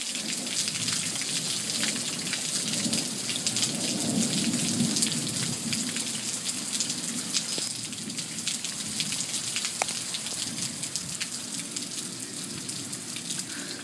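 Steady heavy rain pours onto surfaces in a thunderstorm, a constant dense hiss with low thunder rumbling underneath and no voices.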